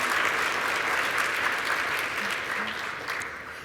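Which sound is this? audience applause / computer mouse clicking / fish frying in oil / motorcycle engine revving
audience applause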